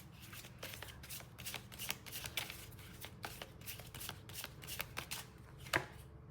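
Tarot cards shuffled by hand in a rapid, riffling series of crisp flutters and soft slaps across several seconds, fairly quiet and close, with no talking.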